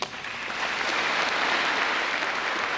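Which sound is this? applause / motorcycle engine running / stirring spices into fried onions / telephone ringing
applause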